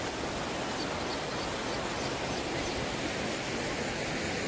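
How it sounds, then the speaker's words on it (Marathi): Water rushes steadily at Palasdari waterfall, a dense, continuous roar of falling and flowing water filling the whole scene without pause, close and loud with no voices over it. "पाणी वाहतं इकडे"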